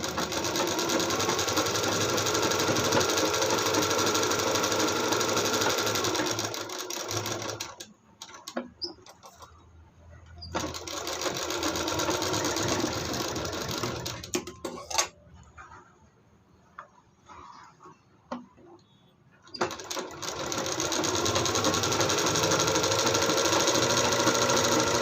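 An electric sewing machine stitches a blouse hook strip in fast, continuous rattling runs, stopping for short quiet gaps with faint handling noises before starting again, close and prominent.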